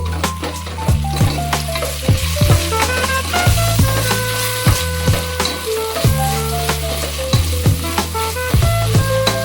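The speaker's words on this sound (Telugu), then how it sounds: "ఇంకా ఇదంతా బాగా వేయించుకోవాలి." Onions, ginger garlic paste, mint and coriander frying in a pan for bagara rice, a loud continuous sizzle with regular scraping strokes of a stirring spoon against the pan.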